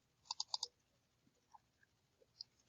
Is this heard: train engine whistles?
no